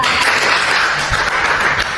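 A classroom of students applauding a classmate named Nara in a mathematics lesson, dense close clapping filling the two seconds without pause.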